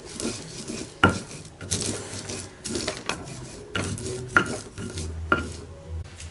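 Peanuts ground in a stone mortar and pestle for karedok, an Indonesian vegetable salad, with rough scraping and rubbing broken by several sharp knocks of pestle on stone, close and fairly quiet.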